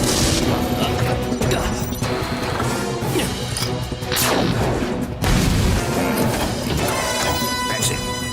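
A cartoon weapon blasts at maximum power in an animated Thunderbirds Are Go episode, loud crashing booms and bursts layered over a dense, continuous action soundscape.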